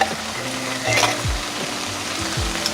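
Fresh onions and celery sauteing in butter in a pan sizzle continuously, with a spoon scraping and stirring through them, close and fairly loud, with no voices.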